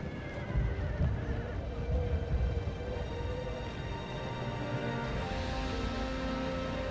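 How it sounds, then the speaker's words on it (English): Horse neighing in the samurai-era strategy game Shogun 2: Fall of the Samurai, a whinny over busy battle noise and hoof clatter, sustained and fairly loud throughout without talk. "That horse trying to get out of the city."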